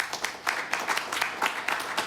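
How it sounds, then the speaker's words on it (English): A studio audience at a talk show claps and applauds in a brief, moderately faint burst of uneven hand claps. "Clap it up."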